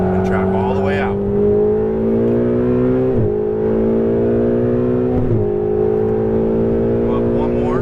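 A Ferrari 488 accelerating on a race track, its engine note climbing steadily in pitch through each gear with two quick shifts, close and loud, under an instructor's spoken coaching.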